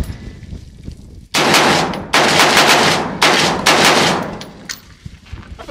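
Rapid bursts of gunfire at a shooting range, several loud, close strings of shots separated by brief pauses, sharp and dense, with quiet range ambience before and after.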